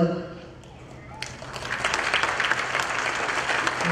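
Crowd applause at a temple annual appreciation banquet swells after a quiet start and continues as steady, dense clapping from a large audience, with faint voices underneath.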